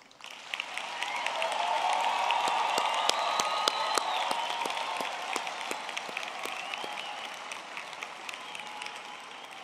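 At a university graduation ceremony for the humanities and veterinary science faculties, a large audience gives the graduates sustained applause that swells, holds steady and tapers slightly, with a few sharper individual claps standing out over the even patter.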